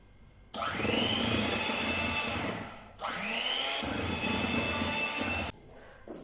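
An electric mixer beats lemon cake batter in bursts, whirring loudly for about two seconds at a time with short pauses between runs as it is switched off and on.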